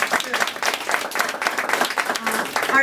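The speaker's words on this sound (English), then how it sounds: "So give him a round of applause." A small audience at a press conference claps in fairly regular, crisp beats, a close, moderately loud round of applause lasting a few seconds.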